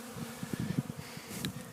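Honeybees buzzing around a sugar water feeder in winter, a steady low drone with fluctuating swells as insects move close by, no talking.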